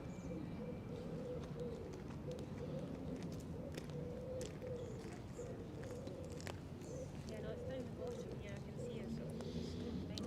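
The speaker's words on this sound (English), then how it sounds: "it's a dove" A dove coos in Greyfriars Kirkyard, Scotland, soft repeated low calls heard faintly amid outdoor ambience, with people talking nearby throughout.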